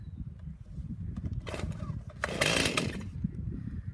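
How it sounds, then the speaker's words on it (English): A chainsaw being started for cutting firewood: several short revving bursts of a small two-stroke engine over a low idling rumble, moderately close, with faint background noise between pulls. "So he chokes the chainsaw."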